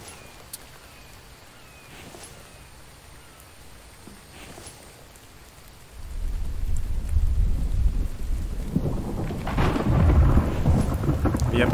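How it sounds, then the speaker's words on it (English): A thunderstorm in the survival game The Infected: steady rain hiss, then a deep rolling thunder rumble building loud from the midpoint and lingering to the end. "The episode started with thunder, and it's probably going to end with thunder."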